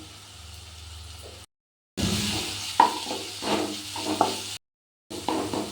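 Green chilli paste fries in hot oil with a steady hiss and sizzle and some light stirring noise. The sound cuts out twice in brief silent gaps.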